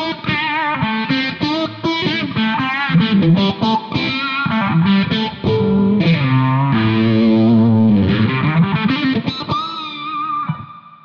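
A distorted electric guitar riffs and sustains notes through a whooshing Valeton PH-10 phaser pedal, gritty and loud, ending on a long fading note.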